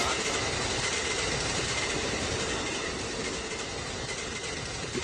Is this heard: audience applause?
no